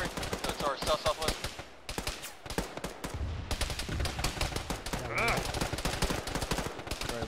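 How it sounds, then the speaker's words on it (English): Heavy automatic gunfire in the military video game Arma 3, dense rapid bursts of machine-gun and rifle fire filling the whole stretch, loud and close, with brief radio-style voices speaking underneath. "Careful, because there's a lot of fire coming through."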